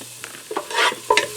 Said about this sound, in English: I'm going to get that in and get that sauteing in there until it starts to soften up and turn